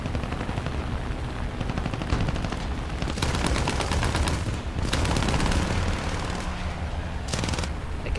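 Sustained machine gun fire from an enemy gunner in War Thunder air arcade battle, loud, dense rapid bursts running almost continuously with brief dips, over engine drone.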